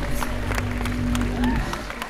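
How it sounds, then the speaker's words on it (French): An audience at a Disneyland Paris Halloween evening show applauds for a performer, clapping and light cheering mixed with a sustained musical tone and some sliding notes, fairly loud throughout. "on peut l'applaudir bien fort"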